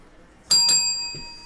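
A bright bell rings twice in quick succession, its clear metallic tone lingering and fading, followed by a soft thud.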